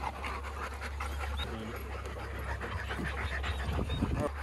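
Dogs pant steadily and close up, a quick rhythmic huffing that runs the whole time over a low steady hum, with a soft whimper near the end.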